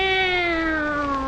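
A tomcat gives a single drawn-out meow that slides gradually downward in pitch, clear and fairly close.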